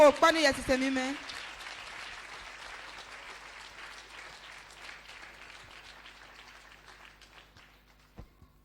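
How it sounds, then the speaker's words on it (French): A church congregation breaks into applause at a deliverance prayer service, a dense burst of clapping that starts loud after a brief shout, then thins and fades gradually over several seconds, with a couple of isolated claps near the end. "Acclamez le Saint-Esprit."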